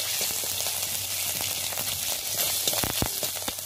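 Fresh ginger fries in hot mustard oil in a wok, giving a steady hissing sizzle with light scraping and a couple of sharper clinks from stirring near the end; no one speaks.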